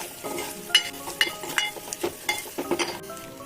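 Spoon stirring asafoetida and turmeric in a hot pan of oil while cooking, giving irregular close scrapes and light metallic clinks over a faint sizzle, with no talking.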